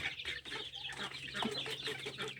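Turkeys cluck softly and continuously as they scratch and peck at scattered wheat and powdered feed, a low, close, busy murmur of fowl.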